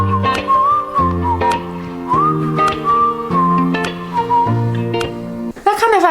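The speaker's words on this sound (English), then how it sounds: "a whistle." A bright, melodic whistle carries the tune over a steady beat and bass line in a song, loud and up front throughout, with a short vocal swoop at the end.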